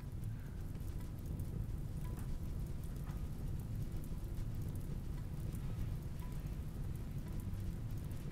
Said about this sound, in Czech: Ono prší, no tak to je skvělý.